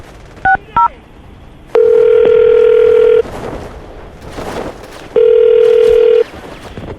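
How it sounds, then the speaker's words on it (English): Telephone keypad tones beeping twice, then two long ringback tones with a pause between, loud and clear over faint room noise. "I'm going to dial the number now"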